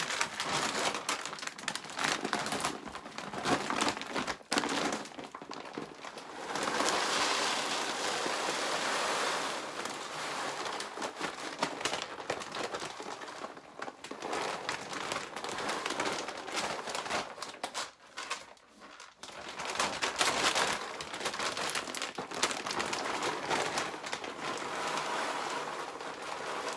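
Nuts or dried fruit poured and rattled into a storage container during refilling, a continuous crinkly, rustling patter with brief pauses, fairly faint and close.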